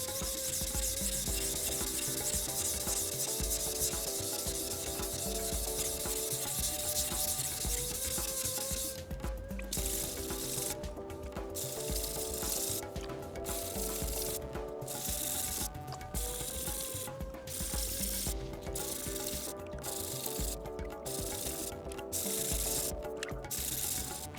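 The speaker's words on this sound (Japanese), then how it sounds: "このニッケル玉のとこを軽く研いでみたんですけど" A Japanese kitchen knife with a Nickel Damascus section and SPG STRIX steel core is sharpened on a whetstone, steady wet rubbing strokes up close, later breaking into regular back-and-forth passes with short pauses.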